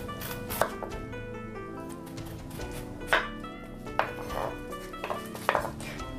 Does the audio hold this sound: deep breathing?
no